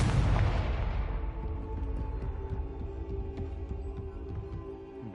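Confringo spell blast in Hogwarts Legacy, one loud booming explosion at the start that rolls off into a long decaying rumble with scattered crackling debris, heard alone.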